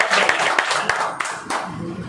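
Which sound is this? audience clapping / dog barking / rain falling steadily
audience clapping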